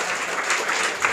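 A school audience at a Teachers' Day speech competition greets the chief guest with loud, continuous applause, a dense wash of many hands clapping at once.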